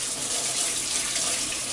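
Peeled potatoes rinsed under a running kitchen tap, a steady broadband rush of water hitting the sink, close and loud throughout, with no talk.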